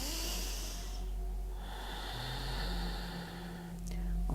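Slow, deliberate yoga breaths in a vinyasa sun salutation session: a long airy exhale, a pause, then further soft hissing breaths, close and quiet.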